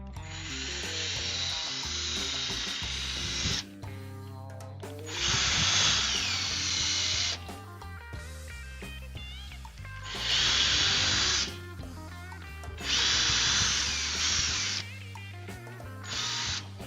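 A power drill bores out pop rivets on a PC case in four long, high-pitched whining bursts of a few seconds each, separated by quieter pauses with faint clatter and handling noise.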